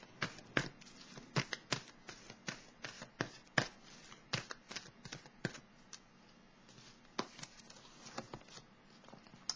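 Tarot cards shuffled and flicked on a table during a reading, with rapid uneven clusters of crisp slaps and riffles, some sharp single snaps, close and fairly quiet.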